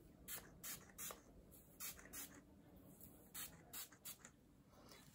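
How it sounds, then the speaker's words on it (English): A hair styler spritzed onto dry hair in a series of short, quick spray bursts, irregular and close, quiet overall with no talk. "I'm literally gonna take some and just spray it onto my hair."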